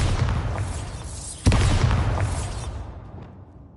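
A Bombarda blasting spell erupts in Hogwarts Legacy, a single sudden explosive boom that cuts sharply through a dense rumbling background and then rolls away into a long, fading roar.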